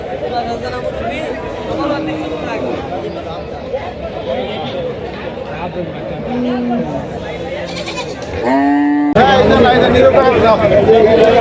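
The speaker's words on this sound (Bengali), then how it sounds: "সেখানে গিয়ে দেখতে পেলাম জমজমাট গরু ছাগলের হাট।" Bustling cattle and goat market, with goats bleating repeatedly amid constant crowd chatter and nearby voices, growing louder toward the end.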